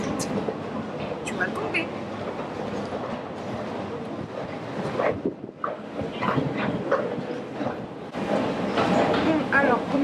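Underground metro train on Paris Line 12, rumbling and clattering steadily over the rails with squeals and rattles of the carriage, while nearby passengers' voices come through over the noise.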